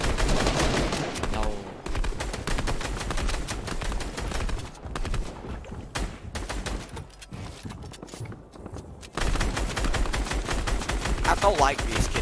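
Gunfire in an online battle game during a duos tournament match: dense bursts of rapid automatic shots and single cracks, loud and continuous, with brief quieter gaps between volleys.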